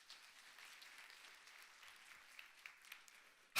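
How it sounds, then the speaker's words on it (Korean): A church congregation claps at a revival meeting, the applause faint and distant and spread across the whole stretch, ending in a sudden loud burst close by. "이때 박수 한번 쳐주는 거예요"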